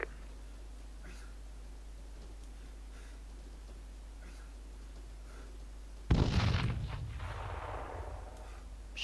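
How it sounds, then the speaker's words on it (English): A single heavy mortar impact in a military video game lands abruptly and booms loudly, then rumbles and decays over a few seconds against a quiet background hum. "Didn't know we had mortars."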